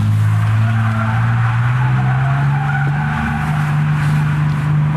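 A Ford Ranger Raptor grinds steadily across an off-road course, its engine a loud, continuous low drone that slowly rises in pitch, with a brief scuff partway through.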